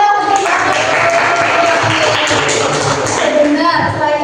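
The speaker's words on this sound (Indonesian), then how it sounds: "tepuk tangan dong" A group of students clapping hands together during a group guidance session, a brief burst of applause laid over a running voice and room noise.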